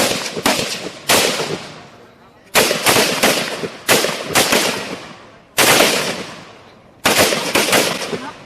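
Bursts of gunfire from police tactical handgun and carbine shooting training on a range, fired in four quick clusters of several loud, sharp shots, each volley ringing out and decaying before the next.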